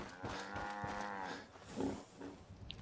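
A cow in the video game Fallout 4 gives a long, drawn-out moo, followed by a shorter second low call, fairly close and clear.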